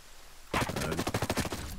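DMR rifle fire in Ghost Recon Breakpoint bursts in suddenly after a quiet moment, a rapid string of about a dozen sharp cracks in quick succession, loud and close, running to the end.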